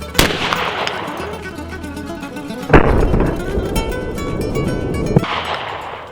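Reloaded Winchester AA shotgun shells fire outdoors, three sharp reports with echoing tails spaced a few seconds apart, over light background noise.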